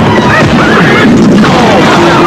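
A horse whinnies loudly in a narrated war film, with rising and falling neighs over dense background noise and a narrating voice.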